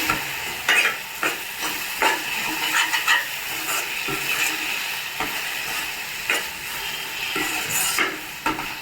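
Spoon stirring turmeric into tomato curry in a pan, with steady scraping strokes over a soft sizzle and occasional utensil clinks against the pan, close and without talk.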